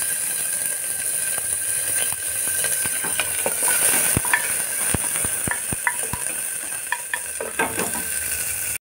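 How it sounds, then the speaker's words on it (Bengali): Onion and chopped garlic frying in hot oil give a steady, close sizzle throughout, with scattered stirring clicks and scrapes of a utensil against the pan. "তেলটা হয়ে গেছে, পেঁয়াজ দিয়ে দিলাম। সামান্য রসুন কুচি দিলাম।"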